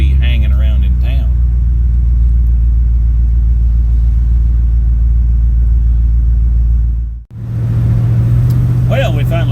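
A 1976 Ford LTD's engine rumbles steadily while driving through town, a loud continuous low drone that dips briefly near the end before returning; a person talks over it early on.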